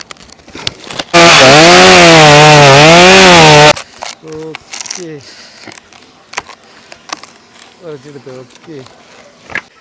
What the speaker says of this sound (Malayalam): ഇന്ന് ആ തെങ്ങ് ആ വീടിന് മേലുള്ള തെങ്ങ് ഒന്ന് മുറിക്കുക